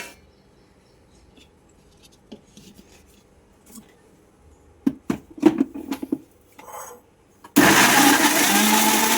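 A kitchen mixer blends banana, mango, jaggery and chilled milk into a milkshake, starting abruptly after some faint handling clatter and running loud and steady to the end.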